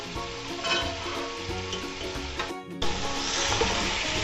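Chunks of mutton sear on high flame in a pot, giving a loud, dense, steady sizzle close up that cuts out sharply for an instant before surging back, with no voices.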